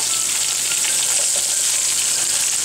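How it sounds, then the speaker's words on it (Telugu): Chopped onions and fried green chillies sizzle in hot oil for an egg kurma, a steady, dense crackling hiss that stays loud and close throughout with no voices. "పచ్చిమిర్చి వేగిపోయిన తర్వాత ఇందులో యాడ్ చేసుకోవాలి ఉల్లిపాయలు"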